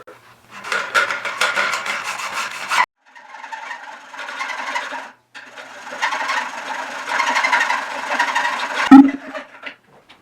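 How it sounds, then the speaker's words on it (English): A metal cutting tool saws tabs off the frame of an electric motocross kit in three long rasping passes, loud and close, broken by short pauses and ending in a sharp clank. "We want to make sure we cut these as cleanly as we can, and then we'll deburr them later."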